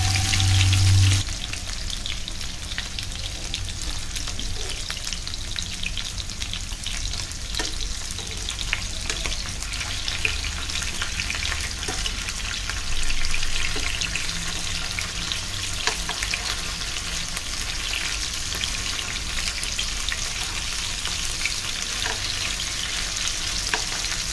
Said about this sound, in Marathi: त्याचा जो आवाज येतो पाण्याचा तो जाईपर्यंत आपल्याला फ्राय करायचं.